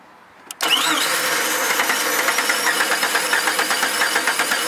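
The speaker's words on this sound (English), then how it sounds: "Crank it over." Car engine cranking over on the starter during a compression test, a short click followed by a steady, loud, rhythmic churning that continues to the end, with no one talking.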